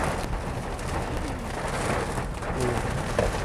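Steady, dense rain patters throughout while a Nissan Almera 1.0 Turbo is reviewed outdoors, with a bird cooing faintly in the background and no talking.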